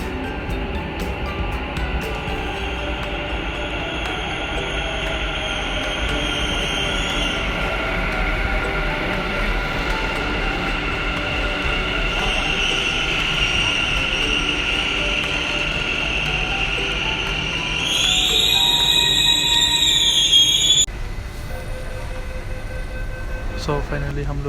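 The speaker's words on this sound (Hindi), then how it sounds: "ये मेट्रो आ रहा है अभी।" A Bengaluru metro train pulls into a station platform, its steady rumble and rail noise filling the clip, swelling with a brighter whine and screech near the end before cutting off, with people talking over it.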